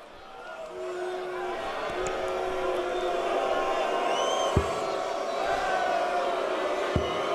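The arena crowd at the PDC World Series of Darts Finals 2019 in Amsterdam keeps up a steady din of chanting, whistling and shouting. Two sharp knocks stand out through the noise.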